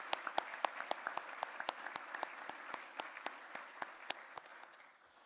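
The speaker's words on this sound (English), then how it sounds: "we'll just give them a big round of applause." Audience applause at the 2023 KX Sports Awards ceremony: a moderate round of individual claps with distinct sharp hits over a steady crowd bed, tapering off near the end.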